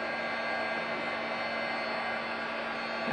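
A heat embossing tool blows hot air over stamped embossing powder, giving a steady, even whoosh with a faint motor hum that holds unchanged throughout.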